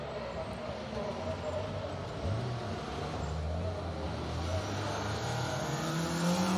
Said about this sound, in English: Clive Hitchman and David Hankney in the E36 BMW also making their way through.